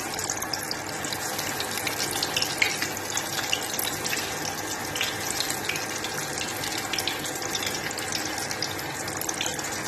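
Aloo tikki frying in mustard oil over a medium flame gives a steady, close, dense sizzle with fine crackling texture throughout, and no one speaks.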